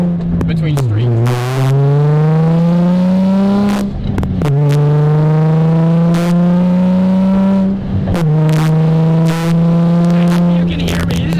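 A Nissan 350Z drift car's engine drones loudly from inside the cabin while driving, holding a steady pitch with brief dips at gear changes and a few sharp clicks and knocks throughout.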